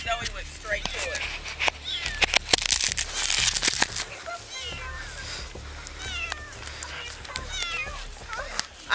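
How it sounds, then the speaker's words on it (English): A cat meows repeatedly outdoors, several short rising cries spaced across the stretch, close and fairly loud, mixed with crinkling rustles and some background voices. "when I heard the cat"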